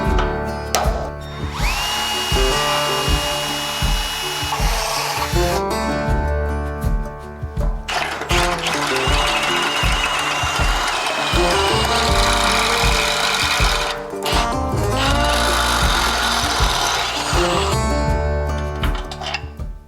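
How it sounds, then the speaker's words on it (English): A power drill bores holes while fitting a 5-lug conversion and crossmember on a C10 truck, a loud continuous whine and grind with brief pauses and restarts over about twenty seconds. "get your center point in the right place, get your hole drilled"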